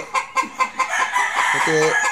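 A White Albany gamefowl rooster crows once nearby, the call preceded by a few short clucks in a quick rhythm.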